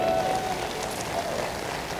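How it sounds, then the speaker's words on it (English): A church congregation gives a sustained burst of hand clapping, a dense, even wash of many hands that fills the whole moment without any voice over it. "Give the Lord a hand clap"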